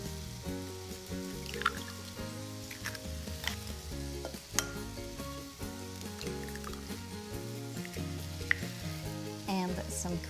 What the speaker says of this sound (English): I'll let the onions cook, stirring frequently.